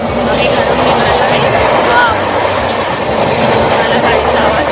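A train running on its rails, a steady, loud rumble with a rolling rhythm that fills the whole stretch, while people talk over it throughout.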